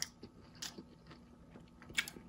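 Quiet, crisp crunching bites at irregular intervals, close to the mic, with soft chewing between them.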